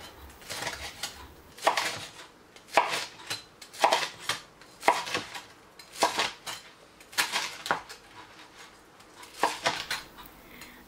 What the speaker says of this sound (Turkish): içi yumuşacık balık filelerimi bu şekilde dilimlere kesiyorum